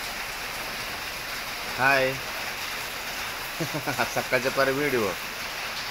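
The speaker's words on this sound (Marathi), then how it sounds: "बघा पाऊस" Monsoon rain falls steadily in Kerala, a constant hissing downpour that carries on while a person briefly speaks over it twice.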